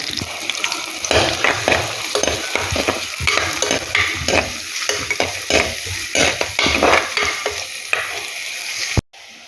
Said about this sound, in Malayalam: വെളിച്ചെണ്ണ ഒഴിച്ച് ചൂടാവുമ്പോൾ അതിലേക്ക് ചുവന്നുള്ളി ഇരിഞ്ഞത് വെളുത്തുള്ളി ഇഞ്ചി പച്ചമുളക് കറിവേപ്പില ചേർത്തൊന്ന് വഴറ്റിയെടുക്കുക